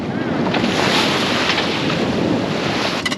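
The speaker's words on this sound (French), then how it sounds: "le vent monte un peu. Il y a un petit peu de houle" Wind rushes steadily across the deck of the sailboat Céanie in rising breeze and light swell, a broad continuous hiss of wind and sea with faint knocks near the end.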